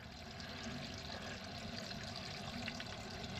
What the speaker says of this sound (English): but there is water flowing